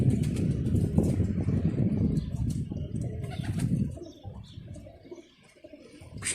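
A pigeon takes off and flies, with soft, rapid wing flapping and light coos heard over faint outdoor ambience. The flapping fades toward the end.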